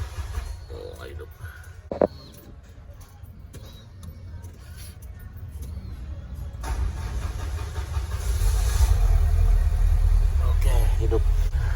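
A Peugeot 406 engine cranks and catches after a fuel pump replacement, then settles into a steady idle that grows louder and fuller, with a voice speaking over the running motor.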